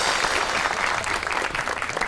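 A studio audience applauds steadily to welcome a guest onto a comedy talk show stage, a dense, loud patter of clapping that fills the whole moment without pause.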